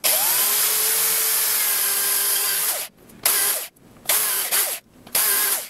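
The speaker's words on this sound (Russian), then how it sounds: "Для этого понадобится дрель со сверлом на 8." An electric drill with an 8 mm bit bores holes in an Edifier R2700 speaker during modification, a steady loud whine for about three seconds, then several shorter bursts separated by pauses.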